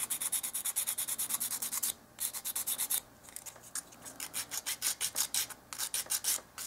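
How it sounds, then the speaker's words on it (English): Emery board filing a small dollhouse miniature tool box, close rhythmic rasping strokes in quick bursts with brief pauses between sets, no talk. "I'm just using an emery board and just kind of filing that off."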